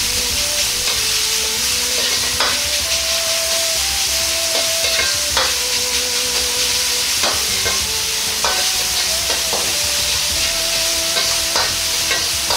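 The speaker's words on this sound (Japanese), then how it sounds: "ひき肉をお玉で広げるようにして全体に火が通るように炒めます。" Minced pork sizzles and fries steadily in a hot pan for Chinese-style mapo eggplant, with scraping and stirring knocks as a ladle spreads the meat, continuous and close, no voices.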